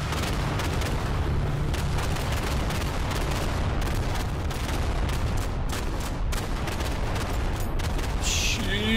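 Dense, continuous rumble of bombing-run explosions in the WWII shooter Day of Infamy, loud and sustained with overlapping blasts and crackling gunfire throughout, a few sharper bursts near the end.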